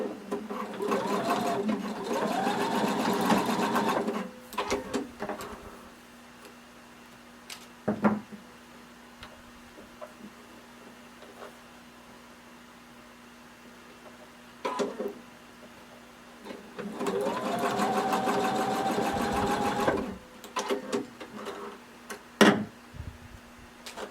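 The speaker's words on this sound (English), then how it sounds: "you're going to go ahead and stitch down your back straps" Sewing machine stitching down the back straps of a swimsuit, in two loud sustained bursts of rapid stitching separated by a quieter stretch with soft handling clicks.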